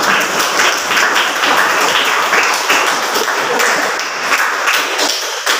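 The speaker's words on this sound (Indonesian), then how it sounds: "Oke, tepuk tangan." Steady applause from a class or group after a student's summary of a lesson on social media use, a continuous wash of clapping at even loudness with no clear talk over it.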